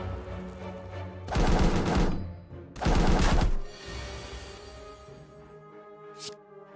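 A corpse explode effect in a video game hits as two loud, rough bursts about a second apart, each lasting close to a second, over a steady musical background.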